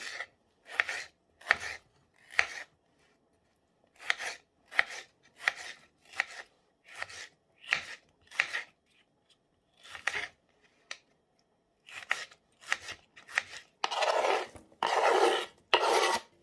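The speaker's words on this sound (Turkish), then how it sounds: "Öncelikle domates keselim." A knife chops tomatoes rhythmically against a cutting board in quick bursts of strokes with short pauses, ending in a few longer scraping sweeps.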